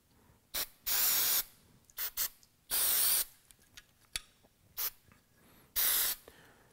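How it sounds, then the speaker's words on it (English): Several short bursts of aerosol action cleaner spray hissing into a 5.45 carbine's upper receiver, close and loud, separated by brief pauses and faint clicks. "We're going to use some REM action cleaner and just simply spray out the upper receiver."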